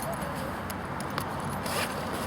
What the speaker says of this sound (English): we just do that zip up at the top there